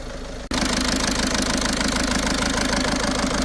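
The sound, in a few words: car engine idling with engine fault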